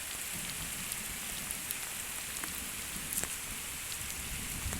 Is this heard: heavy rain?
yes